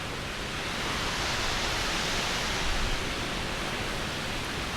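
Lower Calf Creek Falls in Utah, a waterfall pouring in a steady broadband roar, even and unbroken throughout, heard alone without voices.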